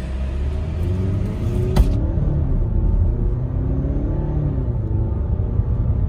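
A Volvo XC90 with a 2-litre four-cylinder engine accelerates while carrying seven people, heard from inside as a steady low engine drone and road rumble, with one sharp click near the start and no speech.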